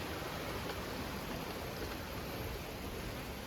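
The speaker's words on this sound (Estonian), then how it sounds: "Siin on vaikselt juba vee kohinad kuulda sillakesest." Steady broadband rush of a waterfall in Bali, heard from a footbridge at some distance, an even, unbroken hiss with no voices.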